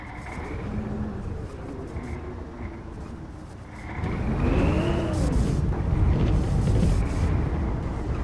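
Karosa B732 bus driving in the OMSI 2 simulator, a steady low diesel engine drone that rises in pitch and loudness partway through as the bus accelerates, with a whining tone sweeping up and down over the rumble.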